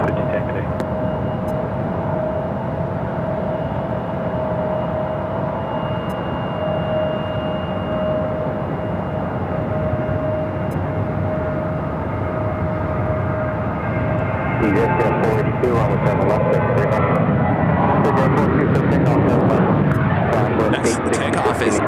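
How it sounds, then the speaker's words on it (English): A NetJets Embraer Phenom 300 business jet departs Phoenix Sky Harbor, its engines a steady, loud broadband roar that swells and grows harsher toward the end, with no clear talk over it. "Next takeoff is NetJets Flight 482 heading to Scottsdale in Embraer Phenom 300"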